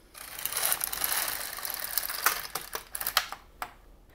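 The carriage of an LK-150 knitting machine slides across the needle bed, producing a close, rattling mechanical whir with clustered clicks that fade out toward the end.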